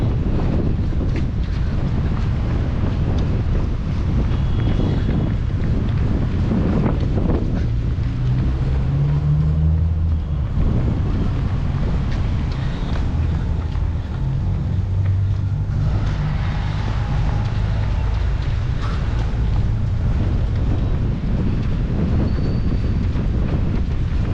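Steady wind buffets the microphone while jogging, with a low, rumbling roar that continues throughout, with no voices.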